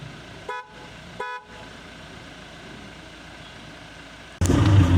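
Two short horn toots from a 2025 Kia Sportage diesel about a second apart, then a steady engine hum that swells suddenly louder near the end.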